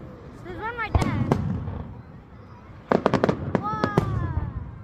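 Fireworks over Cromer, United Kingdom whistle upward and burst in a quick run of sharp cracks and bangs, with a pause between two volleys and excited voices talking among the spectators.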